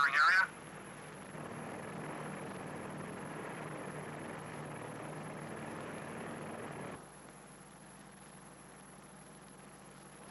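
A P-2V aircraft flies over a nuclear test area, its engine drone a steady distant hum that cuts to a quieter background partway through, after a brief burst at the start.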